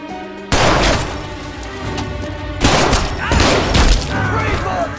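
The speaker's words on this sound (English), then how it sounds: "Shots fired" A shootout in an action movie erupts into loud, sustained gunfire, a dense fusillade of booming shots that starts abruptly and then surges again in heavy bursts, with shouting voices caught in the mix.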